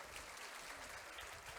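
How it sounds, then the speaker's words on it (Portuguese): A church congregation claps together in a dense, continuous wash of applause, faint and distant, lasting under two seconds with no speech. "Uma salva de palmas para todo mundo."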